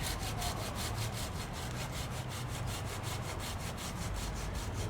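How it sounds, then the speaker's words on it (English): A hand saw cuts through a cherry tree branch close to the main trunk, its quick back-and-forth strokes rasping in a steady, even rhythm, close and fairly quiet, with no voices. "Then switch to my hand saw."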